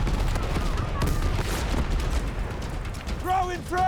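Rapid bursts of gunfire from the shooter game Battlefield 6 crackle dense and loud across a chaotic battle, with explosions rumbling underneath and a voice talking briefly near the end.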